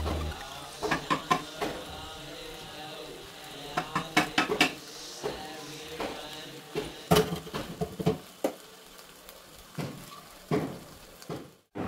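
Masala paste being stirred and fried in a pan for sambar, with a steady soft sizzle beneath repeated sharp scrapes and clinks of a metal spoon against the pan, close and busy throughout.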